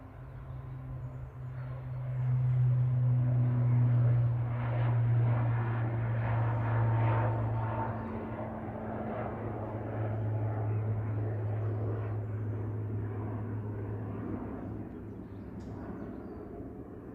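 An Aurigny ATR 72-600 turboprop departs Manchester Airport on an evening flight to Guernsey, its deep propeller drone swelling and wavering steadily at middle distance over a broad engine rumble, with no talk.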